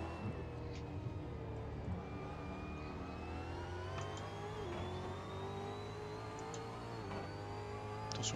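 A V8 Supercar engine in a racing video game accelerates steadily, its revving tone climbing continuously through the gears, loud and close with no pauses.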